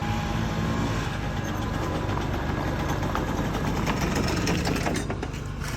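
Small 49cc two-stroke microcar engine running, a steady rapid buzzing chatter close by, holding constant throughout.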